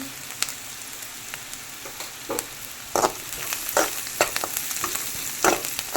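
Sliced onions frying with salt and curry leaves in a pan, crackling sizzle under brisk, irregular spatula scrapes and taps, up close and clear, with no one speaking.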